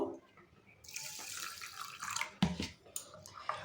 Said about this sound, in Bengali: একবার ধুয়ে নিয়েছি আর একবার ধুচ্ছি